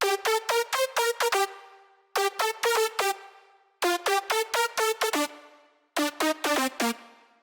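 Big supersaw synth lead layer for an electronic track, playing four bright, buzzy phrases of rapid staccato notes with short gaps between them, heard alone.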